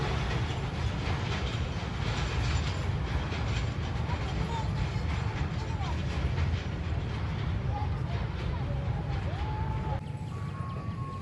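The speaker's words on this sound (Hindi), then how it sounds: "ZCU20 के साथ 13 अब आवाम एक्सप्रेस आ चुकी है।" The Awam Express, hauled by a ZCU20 locomotive, rolls into Shahdara Bagh Junction on Pakistan Railways with a continuous close, heavy rumble and rail clatter that holds steady throughout, with a faint voice now and then.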